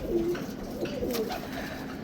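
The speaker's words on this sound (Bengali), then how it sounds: "এখানে দুটা কবুতর খুব ফাইট করতেছে" Two caged pigeons fighting coo and grumble close by in short agitated bursts, a restless scuffle of birds with soft background noise.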